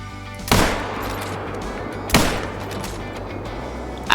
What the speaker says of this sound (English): and then I'm gonna start firing away